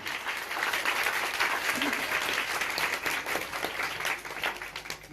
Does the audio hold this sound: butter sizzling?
no